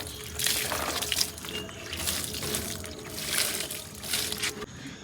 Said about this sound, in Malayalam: ഇത്തിരി വെള്ളം ഒഴിച്ചു കൊടുക്കണമല്ലോ